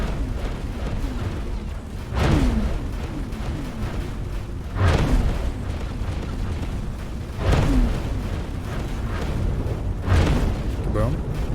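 Repeated booming blasts of a ship exploding in the space game X4, four heavy bursts spaced a few seconds apart over a steady rumbling bed, with a voice talking throughout.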